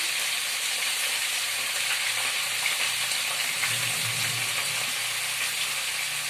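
A pot of khichuri, dal and rice cooking together, stirred now and then, with a constant soft sizzling hiss and faint low scraping near the bottom of the pot, close and steady, with no speech.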